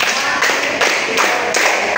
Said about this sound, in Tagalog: Bigyan natin ng 5 palakpak si Bukan